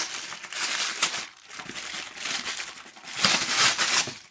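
Crinkly plastic accessory bag for a Lightning Collection Remastered Black Ranger toy is pulled and torn free of its tape, with close crackling and rustling in uneven bursts that swell louder toward the end.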